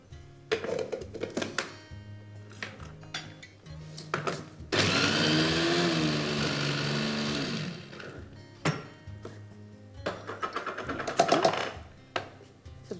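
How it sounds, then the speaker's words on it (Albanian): Several seconds of loud, steady whirring come from a blender pureeing onion with potato. Knocks and clatters of kitchen handling come before and after, along with a brief second burst of the motor. "kalon në blender"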